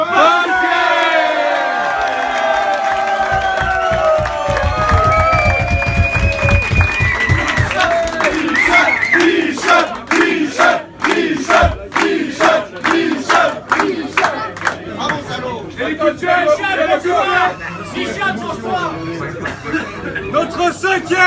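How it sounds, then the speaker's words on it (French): Crowd at a Stade Nantais awards event cheering, whooping and clapping loudly for a nominee, shouts rising over rhythmic applause that continues steadily for the whole stretch. "je vous demande de faire un tonnerre d'applaudissements de bruit pour Mika Basket."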